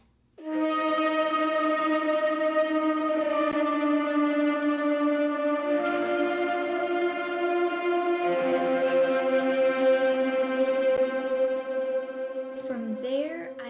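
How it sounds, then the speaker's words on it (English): A sustained, harmonically rich brass-style synth pad run through Guitar Rig holds steady chords, colored by distortion and chorus-like effects, shifting chord every few seconds and ending with a brief glitchy flourish. "I started with a mid pad that I got from Output's Analog Brass, and I put some guitar rig"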